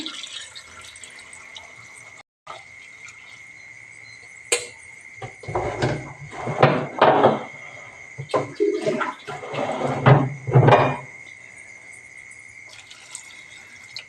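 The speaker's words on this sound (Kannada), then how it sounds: "ಇದಕ್ಕೆ ಇವಾಗ ನೀರನ್ನ ಹಾಕ್ತೀನಿ" Water poured into a pot of cabbage sambar during cooking, a few bursts of splashing and trickling pouring at close range over a faint background hum, with no talking.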